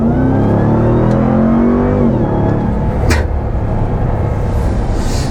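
A 2021 RAM TRX pickup truck in sport mode, its engine revving loud and close, with harmonics climbing then settling into a steady roar over about five seconds and no talking.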